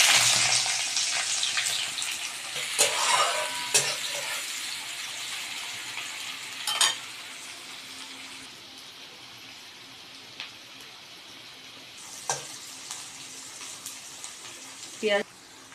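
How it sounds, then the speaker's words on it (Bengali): Chopped onion frying in hot oil with nigella seeds, a steady low sizzle with occasional sharp clatters of a utensil against the pan, and someone talking over parts of it. "পেঁয়াজটা আমার লাল লাল করে ভাজা হয়ে যাক"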